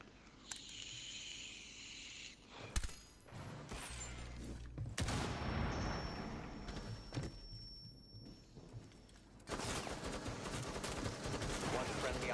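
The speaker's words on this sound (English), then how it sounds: "I just got shot through the fucking barricade" Scattered gunshots and bursts of automatic fire in Rainbow Six Siege, some sharp and close, others muffled through walls, with game effects and a voice talking over parts.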